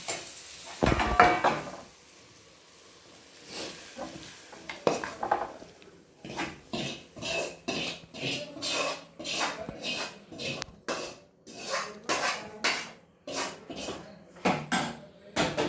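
Grated coconut being roasted in a pan with small onions, fennel seeds and curry leaves: a utensil scrapes and clinks against the metal pan in a steady run of rhythmic stirring strokes, near and clear, with a faint sizzle beneath.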